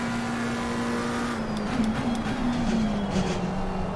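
Race car engine in a sim racing game at Monza, a continuous loud droning whine that rises and wavers slightly as the car accelerates, heard alone without talk.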